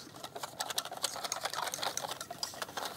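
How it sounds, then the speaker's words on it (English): Batter for crocodile is whisked briskly in a bowl, a rapid close rattling of the whisk in quick repeated strokes without speech. "And then whisk it together."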